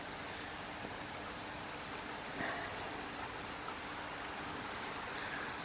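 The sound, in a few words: river stream flowing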